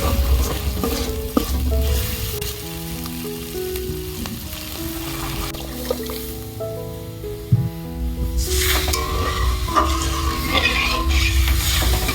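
Masala spice paste frying in oil for an egg and cabbage dish, a steady loud sizzle with scraping stirs and occasional knocks, a voice talking over the cooking.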